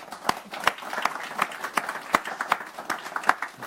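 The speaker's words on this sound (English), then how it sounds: "Give him a round of applause" An audience gives a round of applause, with scattered claps sounding at moderate distance in a room and a few sharper individual claps standing out in an uneven rhythm.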